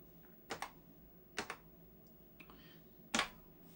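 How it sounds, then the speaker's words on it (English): Keys clack on an Amstrad 464 Plus keyboard as commands are entered, with a few distinct, well-spaced keystrokes up close and a heavier press near the end. "I type tape, which is ridiculously difficult upside down. And now I type run."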